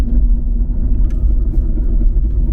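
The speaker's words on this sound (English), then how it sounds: "Sounds like front discs and pads to me." Worn front brake discs and pads on a Vauxhall during a test drive, a steady low rumbling drone under constant road and engine noise from inside the moving car, with no talk.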